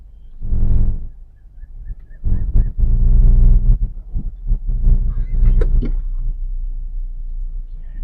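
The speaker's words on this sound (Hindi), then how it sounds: "आप देख सकते हो कि 1 नंबर गियर में गाड़ी चल रहा है।" A car creeps forward slowly in first gear, giving a low continuous rumble broken by occasional soft clunks and knocks from inside the cabin.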